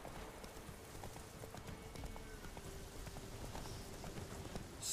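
Horse hooves trot in The Witcher 3: Wild Hunt, a quiet, steady clip-clop rhythm over a soft rain-like background hiss, with no talking.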